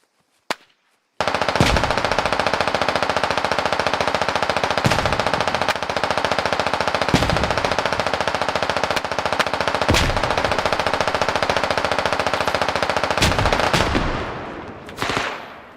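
Sustained automatic assault rifle fire in a competitive video game match, a loud, dense continuous burst lasting many seconds with brief sharp cracks, ending abruptly and followed by a couple of isolated shots.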